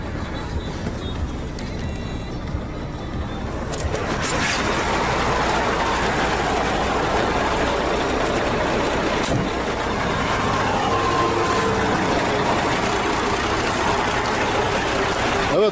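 A MAN F2000 truck engine idles steadily nearby, a constant low rumble running throughout that grows slightly fuller partway in.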